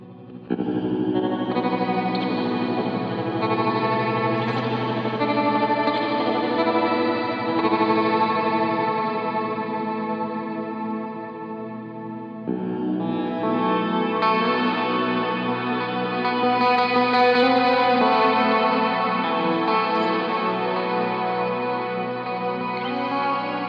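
Guitar through JHS 3-Series Octave Reverb and Harmonic Tremolo pedals with all controls turned up, ringing out in lush, washy sustained chords with pulsing modulation and shimmering octave reverb, two long strummed swells, no talking.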